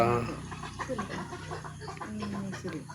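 A chicken clucking nearby in short, irregular bursts, with a person talking alongside.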